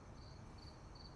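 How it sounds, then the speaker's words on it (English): Crickets chirp at night in short, faint bursts far off, under a quiet background hiss. "whatever else is making their noise in the background, in the distance"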